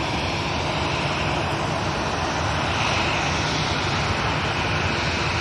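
An EasyJet jet bound for Paris at Manchester Airport sends out a continuous, dense roar of engine noise that stays loud and unbroken from start to finish.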